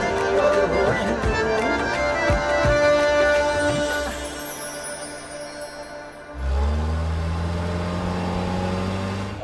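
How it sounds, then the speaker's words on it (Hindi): A car engine revs on the road, a mid-pitched motor note surging loudly under music early on, then dropping to a steadier, lower idle-like drone after a brief dip. "अरे ये तो तेज भाई की गाड़ी है। गाड़ी रोक।"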